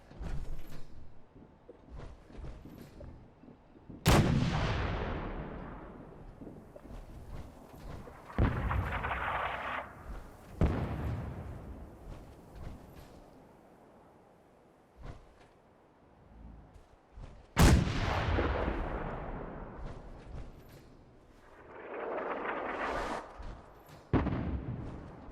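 Artillery pieces fire in the video game Fallout 76: several heavy booming blasts, each a sharp crack followed by a long rolling decay, spaced seconds apart, with rushing whooshes between some shots.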